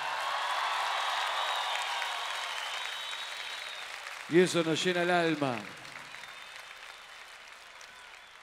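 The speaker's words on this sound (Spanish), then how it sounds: "gracias por los aplausos." A large concert audience applauds inside an arena after a rock band's song, a steady wash of clapping that fades gradually while someone speaks briefly over it.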